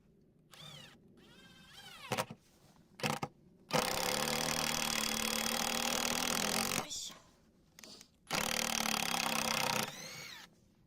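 Power drill boring holes through wooden table boards during an outdoor DIY build, heard in two long, steady, loud bursts of whining motor and cutting, separated by short clatters and handling knocks.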